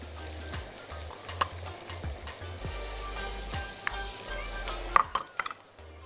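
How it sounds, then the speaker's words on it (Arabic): Green onion and carrot stir-fry in a hot pan for a shrimp stir-fry, giving a steady close sizzle with repeated scraping stirs and a few sharp clinks, over a low background hum. "وهحط اول حاجه البصل الاخضر والجزر"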